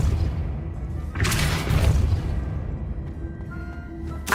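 Depulso force-push spell cast in the Hogwarts Legacy video game, a heavy booming thump around the middle of a low rumbling game soundscape, with softer impacts following.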